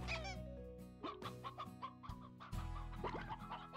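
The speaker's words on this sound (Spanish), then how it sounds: "Esto está lleno de gallinas también." Chickens clucking in the video game Slime Rancher, several close, repeated clucks and squawks in an uneven rhythm over a low steady background hum, with no talking.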